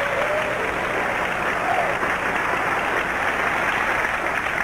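Studio audience applause on a 1994 talk show, a steady broadband wash of many hands clapping at moderate loudness throughout, with no talking over it.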